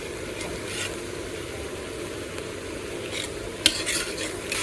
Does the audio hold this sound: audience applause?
no